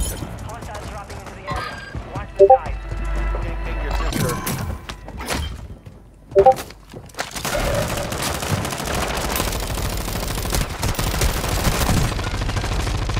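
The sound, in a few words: gunshots in a video game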